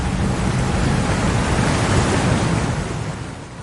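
A fast-flowing mountain stream rushing hard, a broad, steady roar of churning water that fills the space and eases slightly toward the end.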